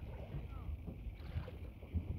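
A large fishing boat's engine runs steadily up close as a low, continuous rumble, with wind buffeting the microphone and some faint talk underneath.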